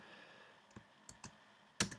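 A computer keyboard tapped lightly, a few sparse clicks followed by one louder keystroke, quiet and close with no talking.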